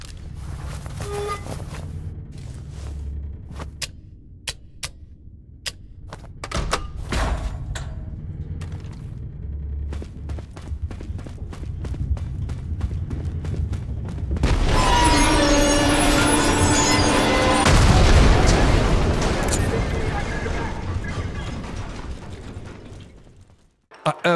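Gunfire in the video game Trepang2 cracks in scattered sharp shots, then a long loud stretch of rapid firing and booming explosions.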